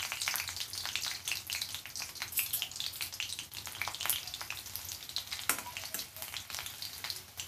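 Three or four cloves of crushed garlic fry in hot oil with a close, crackling sizzle. Frequent stirring scrapes and clicks sound throughout, and no one speaks.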